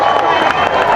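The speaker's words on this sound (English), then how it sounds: "And a big round of applause for Jamie as well, please." Festival campmates at Download Festival cheering and clapping for a contest winner, a loud dense crowd roar with voices mixed in, continuous and close.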